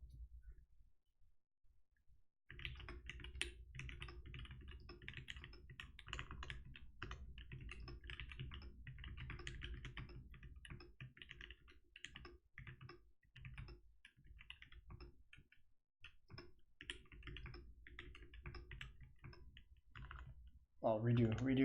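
Steady rapid keystrokes from an OSA mechanical keyboard fitted with Telios switches, close and crisp, running as continuous typing for about twenty seconds with brief pauses and a louder burst at the end.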